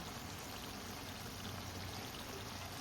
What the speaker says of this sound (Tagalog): So, syempre, pag nilagyan natin ng suka, mga dalawang ganito lang.